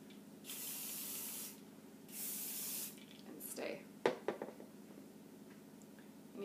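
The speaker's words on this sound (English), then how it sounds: "spray it pretty good so it's not going to move" Two sustained hissing bursts from a hairspray can sprayed onto hair, each about a second long, then a few short sprays and rustling, with a brief spoken word.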